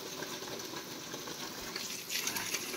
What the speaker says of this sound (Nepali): यही भित्रबाट निक्लेर सिधै यहाँ चाहिँ आएको छ पानी